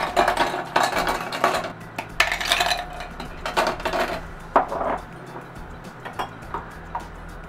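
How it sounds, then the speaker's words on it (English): Ice cubes clatter into a cup for a homemade pumpkin cream cold brew, a quick run of sharp, hard clinks and rattles up close, with a few scattered settling knocks afterward. "Add ice to our cup."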